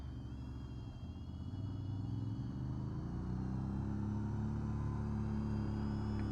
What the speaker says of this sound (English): There is some sort of vehicle passing through. I think it's a 4x4 or one of those dirt vehicles.